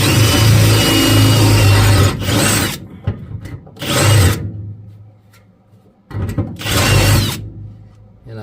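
A 1/4-inch drill bit boring through two layers of car body sheet metal on a first-generation Pontiac Firebird/Chevy Camaro F-body floor; three loud grinding bursts separated by quiet pauses.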